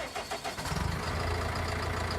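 A Lindner Lintrac 90 tractor in Farming Simulator 19 cranks with a short rapid chug, catches, and settles into a steady close diesel idle rumble.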